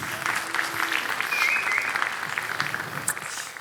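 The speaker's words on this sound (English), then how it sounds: "Now you can do a big applause." A sustained burst of audience applause follows a business talk, with many hands clapping in a broad, even roar that stays full and close for the whole stretch and trails off only faintly at the end.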